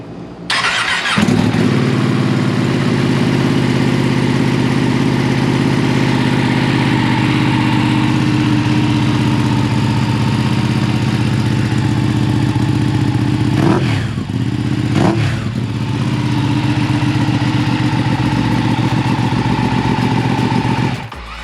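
A Ducati 959 Panigale fitted with a full Akrapovic exhaust idles loudly and steadily throughout, a deep continuous rumble with a brief dip and blip near the end.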